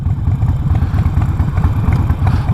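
A 2020 Harley-Davidson Roadster with a Vance and Hines fuel pack lopes along at low RPM, a loud, close, uneven throbbing rumble with a clattery beat and no talking.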